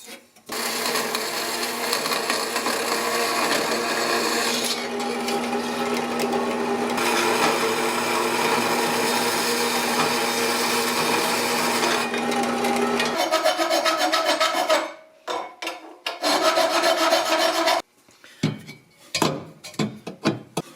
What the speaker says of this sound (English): Just need to cut a little bit off of this flange here.